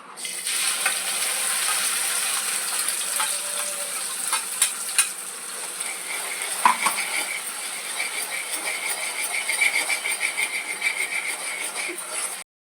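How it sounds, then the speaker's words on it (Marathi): Ground chili, ginger and garlic masala goes into hot oil in a wok, giving a steady close sizzle and frying hiss with scraping stirring clatter throughout. "आता आपलं कढईमध्ये तेल चांगलं गरम झालेलं आहे आता त्यात आपण मागाशी काढलेला मसाला वाटून घेतला आहे तो टाकत आहोत"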